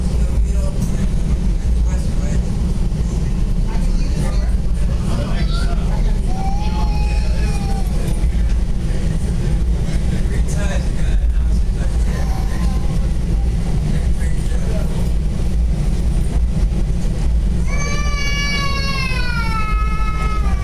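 Loud, steady rumble and rattle of a Metra commuter train running between Elgin and Bensenville, with squealing wheel or brake tones rising near the end and faint voices underneath.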